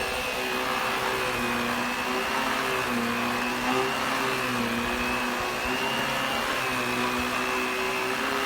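A Kenmore pet-friendly lightweight bagged canister vacuum cleaner running on its carpet setting, a loud, steady motor whine with a constant airflow hiss and no pauses.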